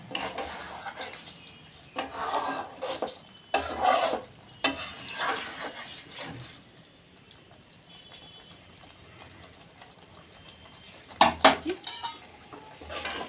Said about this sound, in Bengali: টমেটোর সঙ্গে একটুখানি কষিয়ে নেব মাংসটা কষানো হয়ে গেছে